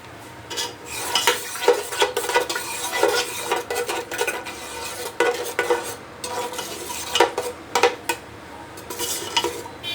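Beef trotters (paya) frying with black pepper, red chilli, salt and turmeric in a pot, heard as a busy sizzle under repeated scraping and clattering stirs of a spoon against metal, close and fairly loud with no talking.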